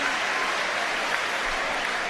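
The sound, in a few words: crowd applauding goalkeeper save at football match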